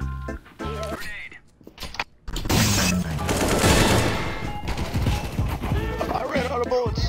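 Rapid gunfire in the shooter video game Valorant, bursts of shots crackling loudly over a few seconds, with brief gaps and game effects around them.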